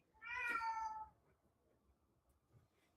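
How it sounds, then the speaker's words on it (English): House cat meowing for attention, a single drawn-out, fairly loud meow close by, then quiet room background. "I can hear your little cat there wanting your attention"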